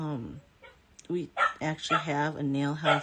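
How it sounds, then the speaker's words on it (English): A small puppy barks and yips indoors behind a closed door, its sharp calls mixed in with someone talking close by. "You can hear my puppy's barking."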